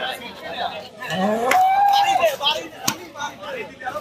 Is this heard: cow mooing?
yes